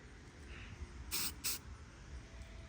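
Two short hissing bursts of an aerosol spray can coat a cracked car bumper, close and sharp against a quiet background, with no one talking.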